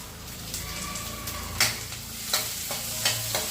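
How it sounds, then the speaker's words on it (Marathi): Pumpkin sizzles in a hot kadhai over a tempering of cumin and mustard seeds, with a steady frying hiss broken by repeated sharp spatula scrapes and knocks against the pan, close and loud, no talk. "चला, आता कढईमध्ये भोपळा बनवते. तडक्यामध्ये मी जिरं, मोहरी घातलेली बरं का."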